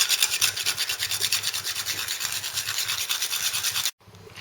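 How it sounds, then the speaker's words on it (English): Whole nutmeg scraped over a grater onto cream poured over baked pasta, a rapid, continuous close rasping that stops abruptly near the end. "don't forget to grate some nutmeg"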